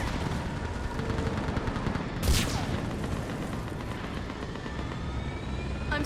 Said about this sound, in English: Get that gunship moving!